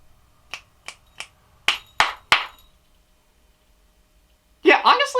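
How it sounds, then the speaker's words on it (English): Three crisp finger snaps followed by three sharper claps in a quiet room while testing a microphone, each one a close, isolated crack, then a voice begins speaking. "I think this is a really great way to help out in testing out my mic before each take. Just snap, snap, snap, clap, clap, clap."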